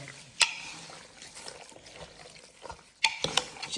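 Meat rubbed by hand with salt and curry leaves makes soft, wet squelching and rustling, with two sharp louder crunchy bursts at the start and later, close up, with no talking.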